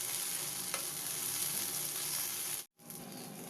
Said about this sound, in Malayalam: ഇനി ഇടയ്ക്കിടയ്ക്ക് ഇളക്കി കൊടുത്ത് ഈ വഴുതനങ്ങ കഷ്ണങ്ങളൊക്കെ നന്നായിട്ട് ഫ്രൈ ആകുന്നത് വരെ ഫ്രൈ ചെയ്യാം.